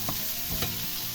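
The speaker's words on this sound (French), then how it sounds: "Et j'ajoute mon lard et mon oignon." Bacon and onion sizzle in a pot for a soup of Polish sauerkraut, with a short spoon stir and steady close frying hiss, no talking.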